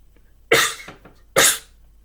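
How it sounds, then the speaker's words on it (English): Two sharp, explosive sneezes in a sneezing fit burst out close to the microphone, roughly a second apart, against a quiet background. "Sneezing fit."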